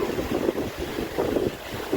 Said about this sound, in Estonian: Nüüd hommikul siin on tuul tõusnud ja vihma on tulnud